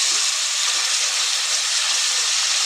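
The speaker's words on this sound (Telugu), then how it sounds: "ఇప్పుడు ఫ్లేమ్ అనేది హై ఫ్లేమ్ పెట్టి మాడకుండా మంచిగా మనం ఆనియన్స్ అయితే ఫ్రై చేసుకోవాలి ఆయిల్లో" Onions frying in oil over a high flame give a steady, loud, continuous hiss and sizzle that runs unbroken throughout, with no talking.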